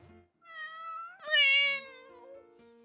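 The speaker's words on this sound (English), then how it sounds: "The cutest stock cat sound in existence." A cat meows twice in close succession, a short call followed by a longer, louder, drawn-out meow that trails off, clear and alone against silence.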